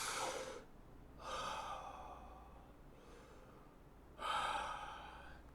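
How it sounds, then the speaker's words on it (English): A person takes slow, deep breaths, two long airy inhales and exhales rising and falling close to the microphone, with quiet pauses between them and no speech. "another deep breath."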